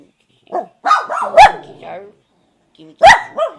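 Dogs bark and yip loudly up close, with a drawn-out howling whine and brief growls between short bursts.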